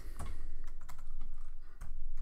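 Steady, dense typing on a computer keyboard during game programming, rapid clacking keystrokes close to the mic with a few louder key hits, no voices.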